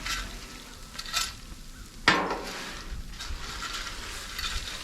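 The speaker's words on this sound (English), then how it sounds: "Mix it all in, mix it around." Chex Mix being stirred in a pan, a steady scraping and rustling of small dry pieces against metal with a sharper clatter partway through, close and moderately loud.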